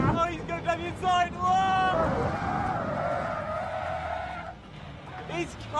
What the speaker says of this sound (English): He got me with a massive lock-up.